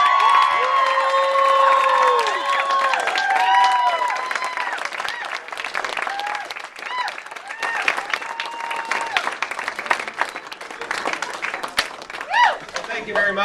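A loud crowd at a Vermont election victory speech applauds and cheers, with whoops and shouts over sustained clapping that gradually thins out.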